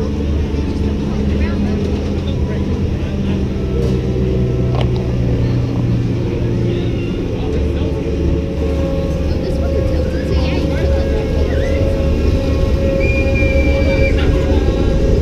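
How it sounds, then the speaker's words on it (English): A Zero Gravity roundup ride on a traveling midway at the 2017 Maryland State Fair runs with a loud, steady mechanical rumble and whir, and people talk nearby. "It's a roundup ride."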